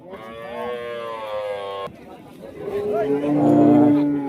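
A thin dairy cow at a busy cattle market in Rajshahi gives a long, loud, close moo, followed by a second drawn-out moo, with market chatter behind.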